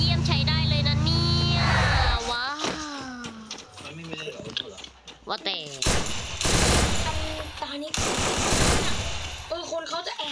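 Rapid automatic gunfire and single shots from the Free Fire battle game, loud and repeated in bursts, mixed with game effects and voices talking over the action.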